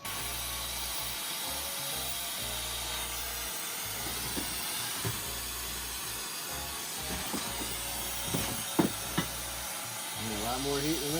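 A torch flame roars with a steady hiss while it heats a thick steel pitman arm, continuous and fairly close, with a few clanks and some speech over it.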